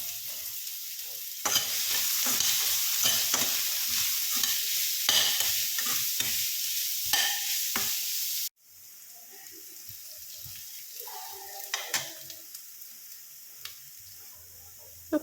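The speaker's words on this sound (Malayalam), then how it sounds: "സവോള ഇട്ടിട്ട് നന്നായിട്ട് ഒന്നിങ്ങനെ ലൈറ്റ് ബ്രൗൺ, ഭയങ്കര മുരിഞ്ഞെടുക്കണ്ട, നമുക്ക് ജസ്റ്റ് ലൈറ്റ് ബ്രൗൺ വരെ ഒന്ന് നന്നായിട്ട് വഴറ്റിയെടുക്കാം" Sliced onions sauté in a hot pan for a fish masala, with a loud, steady sizzle and frequent stirring scrapes that cut off abruptly partway through. A quieter stretch with faint clinks and light stirring follows.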